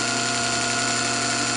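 A hydraulic motor runs steadily as the pump's full flow reaches it, giving a loud, constant mechanical hum with fixed tonal whine and no talk.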